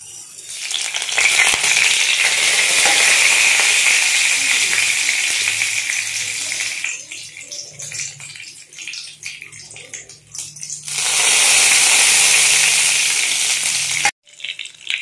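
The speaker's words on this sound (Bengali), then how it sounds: "তো এগুলোকে সবগুলোকে আমি কিন্তু এবার তেলের মধ্যে একটু একটু করে দিয়ে নেব" Cumin, mustard seeds, chopped chili and curry leaves hit hot oil in a tempering for suji dhokla, giving a loud, close, hissing sizzle that fades in the middle and then flares up again strongly before stopping abruptly.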